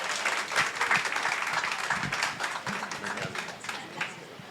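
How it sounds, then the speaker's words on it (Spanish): Church audience giving applause for a visiting pastor at a ministry gathering, dense clapping from many hands, fairly close and continuous, tapering slightly toward the end. "Démosle un fuerte aplauso, por favor."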